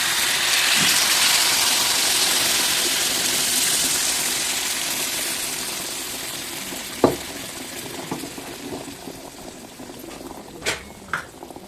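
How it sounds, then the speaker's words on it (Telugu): Water pours into a hot pot of fish curry with a steady sizzling hiss that slowly fades, followed by a few sharp clinks of a utensil. "కావాల్సిన వాటర్ అయితే యాడ్ చేస్తున్నాం"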